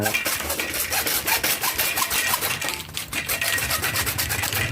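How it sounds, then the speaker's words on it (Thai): Rapid rasping strokes of a hacksaw cutting through pipe, a continuous back-and-forth scraping at a quick, even pace, heard up close. "แบบโบราณแล้วเลื่อยเหล็กเนาะเลื่อยท่อ"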